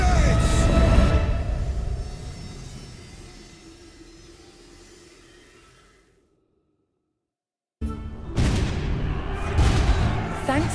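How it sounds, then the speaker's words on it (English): Heavy gunpowder cannon blasts in an Age of Empires IV battle: a loud boom rolls away over several seconds, then after a brief silence another sharp, powerful volley erupts. "Thanks to the explosive force of cannon fire, the French were close to victory in this century-long war."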